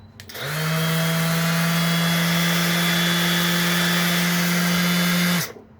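A DeWalt DCW210B 20V brushless cordless 5-inch random orbit sander spins up and runs steadily at a high, even whine for about five seconds, close and loud, then cuts off abruptly.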